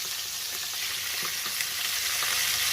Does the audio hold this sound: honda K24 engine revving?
no